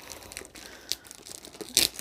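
Dog rustling and crinkling a plastic bag: short, close crackles and a sharp crunch at the end, fairly quiet and uneven.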